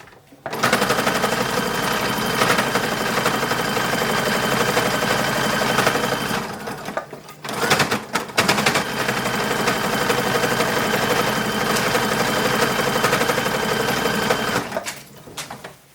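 A sewing machine runs steadily while stitching a dress hem, a loud, fast, even mechanical chatter that stops briefly partway through, then resumes and runs on before cutting off.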